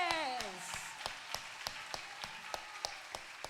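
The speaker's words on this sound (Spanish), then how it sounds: "Dale un aplauso a los" Scattered, spaced claps from a small gathering at a healing and deliverance retreat, each clap distinct and evenly paced, following a fading sung or spoken tone at the start.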